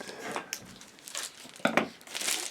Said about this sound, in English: So it needs cutting. This is a very good envelope.